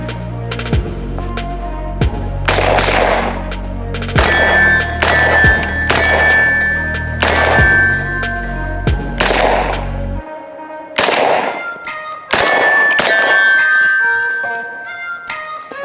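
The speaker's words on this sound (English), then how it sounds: "it's shooting really smooth and everything's functioning how it should" Sabre AR-15 rifle firing, a sharp loud gunshot repeated roughly a dozen times in an uneven rhythm with brief pauses, each crack ringing out with echo and a steady hum underneath for the first stretch.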